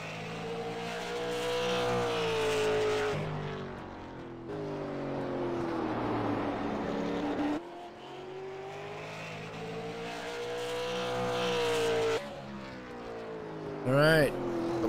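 Super Late Model race cars in a racing game at New Smyrna Speedway roll off for the green flag, engines droning and rising in steady harmonic sweeps, with a short sharp whine near the end; no talk.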